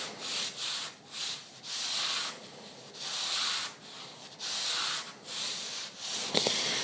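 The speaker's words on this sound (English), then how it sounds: "I'm not putting too much pressure on the sponge, I'm just kind of letting the oil work together with the friction" An oiled sponge rubs along an antique French sword blade in steady back-and-forth strokes, a soft rhythmic scrubbing swish with brief pauses between passes and a small tap near the end.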